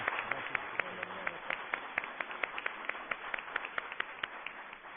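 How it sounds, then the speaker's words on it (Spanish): An audience at an international congress on family and child relations applauds to welcome a speaker, a dense run of sharp, irregular hand claps that fills the whole span at a moderate, steady level. "bamos al doctor Juan Luis González Alcántara con un fuerte aplauso."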